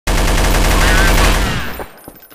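A loud, rapid burst of machine gun fire in a video game rattles continuously for about a second and a half, then cuts off into a short fading tail.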